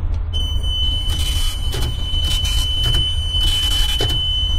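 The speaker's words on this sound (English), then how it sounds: "Now it is giving alarm." An oil content sensor alarm on a chemical tanker sounds as a steady high-pitched electronic tone over loud constant engine-room machinery hum, with intermittent clicks and bursts of noise.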